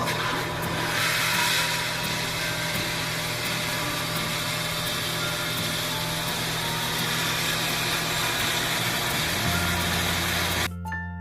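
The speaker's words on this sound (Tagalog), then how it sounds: "Pwede na po nating paandarin ang water pump." An electric water pump fitted with a newly installed mechanical flow switch runs with a loud, steady motor hum and hiss. Near the end, its tone drops and it shuts off abruptly.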